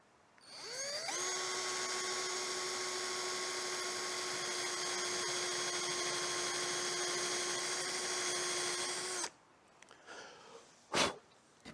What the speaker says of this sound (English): So this is for drilling holes, and it shows you the size.